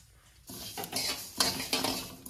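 Whole spices (five-spice mix, black pepper, coriander and mustard seeds) are dry-heated in a pan for mango pickle, with rattling, scraping metal strokes of a spatula in short, uneven bursts close by.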